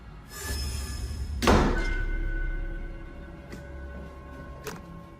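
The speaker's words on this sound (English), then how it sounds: "Suddenly, the door slammed shut violently" A door slams shut with a heavy thud, followed by a lingering rumble and a couple of faint knocks, with no voices.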